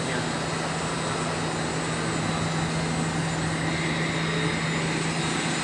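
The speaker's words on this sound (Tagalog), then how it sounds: "Ito naman yung fire pump ng Daling. Ano to engine to engine." An old fire pump engine, reportedly leaking, runs with a steady loud drone and a constant low hum, unbroken and with no talk over it.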